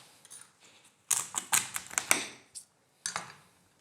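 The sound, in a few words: knife cutting through crunchy crab shell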